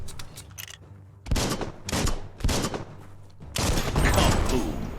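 Rapid bursts of gunfire in Biomutant, shooting at an explosive object, come in several loud, close volleys with short pauses between them and no talk over them.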